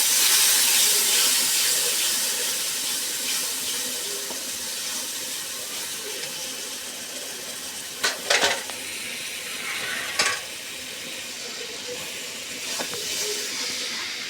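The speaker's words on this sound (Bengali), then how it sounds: "মশলাটা সুন্দর করে কষে নেব।" Steady hissing sizzle of a chili-powder spice paste with a little water frying in a pan for chicken rezala, with a few brief clinks of a utensil partway through.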